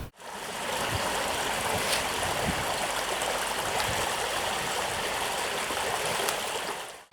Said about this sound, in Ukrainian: це місце, де початок цього струмка